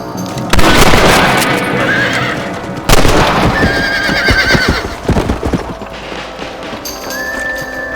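Horses in the Red Dead Redemption video game neigh loudly and shrilly twice, close by, with hoofbeats and in-game clatter underneath.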